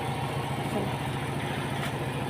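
A vehicle engine idles while warming up before the morning commute, a steady low rumble that runs evenly throughout.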